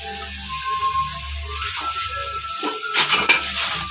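A spoon scrapes and clatters through onion paste with turmeric and jackfruit in a pan, steady low scraping that grows into a louder burst of clinks near the end, with no talking.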